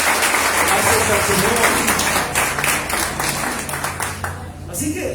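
Congregation applauding during a Spanish-language church sermon, a dense, steady wash of clapping at fairly close range that stays loud throughout, with low background rumble and some voices mixed in.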